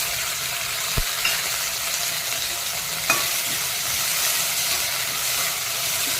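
Okra pieces and tomatoes drop into hot oil in a pan and sizzle loudly and steadily, close by. There is a brief clink of a utensil near the start and another partway through.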